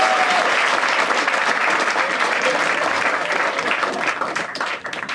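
A live audience at a comedy show breaks into loud, sustained applause, a dense wash of clapping that holds steady and thins slightly near the end.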